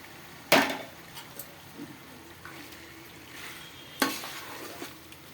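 Tomato masala frying in oil in a pan, a soft low sizzle broken by two sharp scraping clanks of a spoon stirring, one near the start and one near the end.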